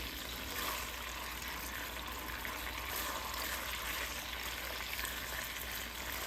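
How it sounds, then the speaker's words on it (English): Teriyaki sauce bubbles in a pan over medium-high heat, a faint, even hiss and crackle that holds steady throughout. "Pour all the sauce in and cook until the sauce gets bubbly."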